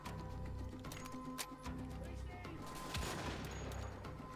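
Gunfire in Wolfenstein: The Old Blood, with several sharp shots and bursts rattling over game music and ambience. The shots are fairly quiet and come at irregular intervals.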